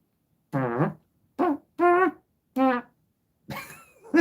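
Five or six short comedic fart noises fire off in a quick series with brief gaps between them, each a rubbery, pitch-bending blurt, close and clear against silence.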